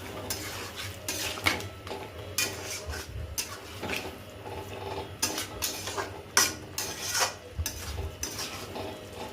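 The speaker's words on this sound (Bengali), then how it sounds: "দিয়ে আমি একটু নাড়বো, ভালো করে নাড়ছি ভালো করে।" Spice paste is stirred into chicken in a pot, with repeated scraping and clinking of a spoon against metal in irregular strokes over a faint background sizzle, fairly quiet and close, with no talking.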